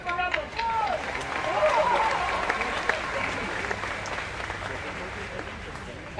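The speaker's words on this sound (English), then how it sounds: "Give them a round of applause." An outdoor holiday audience at EPCOT applauds a conductor, orchestra and singers, a broad wash of clapping with a few cheers and whistles near the start, settling into a steady, slightly fading patter.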